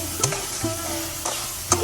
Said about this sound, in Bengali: আমি মশলাটা ভালোভাবে কষিয়ে নিচ্ছি